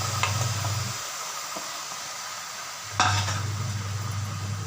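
Chicken goes into a pressure cooker on a lit stove and sizzles with a constant close hiss over a low hum, broken by a couple of sharp metallic clanks.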